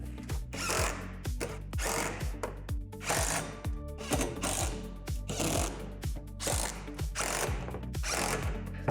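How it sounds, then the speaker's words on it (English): A ratcheting hand tool tightens bolts while a Lifetime Adventure Castle playset is being assembled, making repeated bursts of rapid clicking with short pauses between strokes, close and fairly loud with no talking. "Now go back and tighten the hardware."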